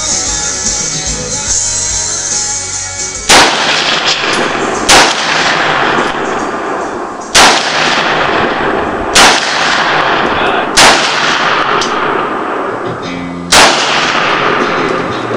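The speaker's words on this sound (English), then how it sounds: "Here's Josh shooting the AR-15 again, 223 round" An AR-15 rifle firing .223 rounds outdoors, six loud sharp shots spaced a second or two apart, each followed by a ringing echo tail.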